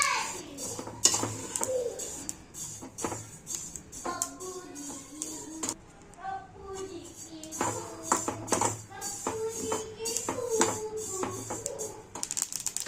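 Sesame seeds roast in a dry pan while a spoon stirs and scrapes against the metal. The scraping comes in irregular bursts with clinks, and faint voices sound in the background.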